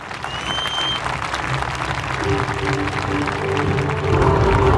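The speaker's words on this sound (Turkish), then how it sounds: "pilotumuz Üsteğmen Serdar Doğan alkışlarına gelsin lütfen." An outdoor audience at a Solo Türk F-16 air show in Burdur applauds a demonstration pilot, steady clapping that swells louder near the end while a voice speaks over it.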